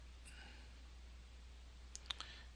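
A couple of quick, faint mouse clicks on a listing thumbnail on a real estate listings website, coming close together in an otherwise quiet room.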